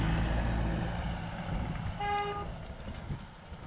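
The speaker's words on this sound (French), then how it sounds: "Ne pas oublier de klaxonner" A vehicle on a Nepal mountain road gives a short horn toot midway, a clear, moderately close blast over a rumbling engine and road noise.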